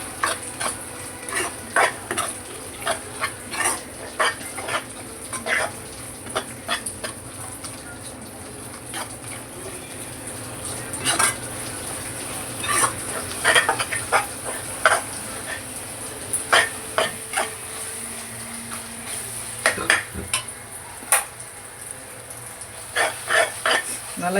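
Garlic sautéing in a pan for a bat fish curry, with a soft steady sizzle under repeated scraping and stirring clinks of a spoon against the pan, plus occasional louder knocks.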